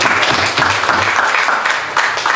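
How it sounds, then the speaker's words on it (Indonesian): Applause from a church congregation at a gospel service, many hands clapping in a thick, even roar that stays loud throughout, with faint voices underneath. "Mau tepuk tangan buat Yesus."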